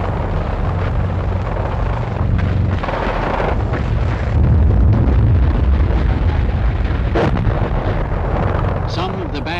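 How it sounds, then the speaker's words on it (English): Battle sounds from a World War II airborne war film: dense, loud rumbling of machine gun and mortar fire with booming blasts, continuous throughout, with a voice speaking faintly beneath the noise. "Held up by machine guns and mortars."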